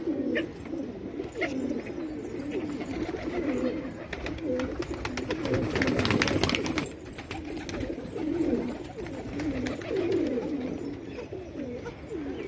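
Pigeons coo softly and repeatedly amid a low, steady murmur of background noise, with occasional light rustling.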